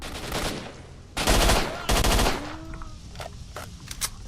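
An AK rifle fires in STALKER: Shadow of Chernobyl, loud rapid automatic bursts in quick succession, followed by quieter clicks and handling sounds.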